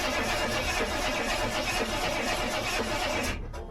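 A hot rod engine at 19 degrees runs in a dense, loud, continuous churning roar close by, then cuts off abruptly near the end.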